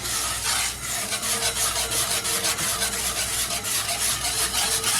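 Pork chops in thickening homemade canned broth with mushrooms are stirred in a pot, giving a continuous close scraping and rubbing sound with a faint sizzle underneath and no voices.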